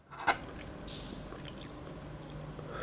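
Someone eating spicy Thai chicken feet soup, close-up wet chewing and squishy bites with a few sharper crunchy clicks, quiet and intimate with no talking.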